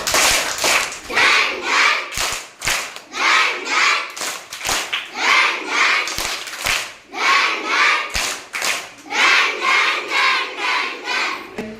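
A group of children in a classroom performs a clapping game, sharp bursts of hand claps in quick rhythmic runs broken by brief pauses, close and loud, with children's voices chanting and calling along between and over the claps.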